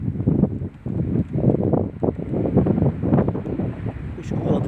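Steady gusting wind buffets the microphone with a low rumble throughout, loud and close, with no voices.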